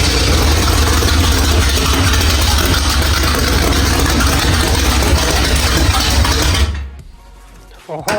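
A Midwest Modified race car engine runs loud and steady with a rough, heavy idle for about seven seconds before abruptly cutting off, leaving a brief quiet tail.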